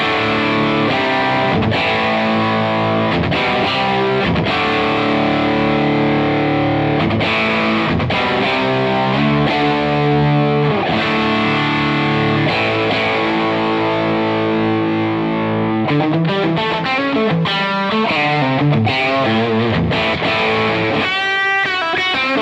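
A Two Rock Bloomfield Drive guitar amp with the lead gain turned up delivers a driven, distorted lead tone, with sustained notes and quick phrases played loud and close, ending in a flurry of fast bent notes.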